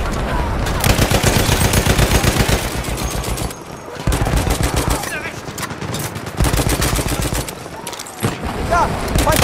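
Lewis Gun machine gun in Battlefield 1 firing loud, rapid sustained bursts with brief gaps between them, close and dominant, with other battlefield gunfire and voices shouting in the background.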